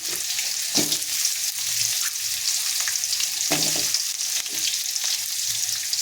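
Fennel seeds and chopped onion fry in a little oil for an eggplant curry masala, giving a steady close sizzle with occasional stirring scrapes and soft knocks, no voices.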